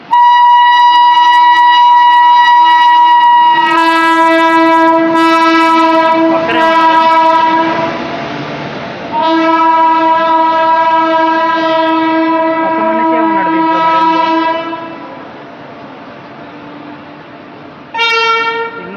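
A train on the Hyderabad to KuricheDu route rolls steadily along the rails, loud and close, with long sustained horn blasts sounding over the running noise and a brief final honk near the end.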